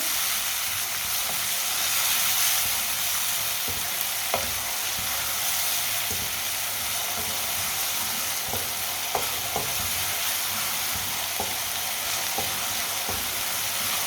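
Finely chopped tomato and vegetables fry in a pan with a loud, continuous sizzle and hiss. Occasional sharp ticks and clicks of stirring break through the steady sound.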